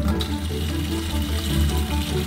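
A strong, steady stream of water pouring and splashing continuously from a DIY rain barrel, close and loud, with no talking.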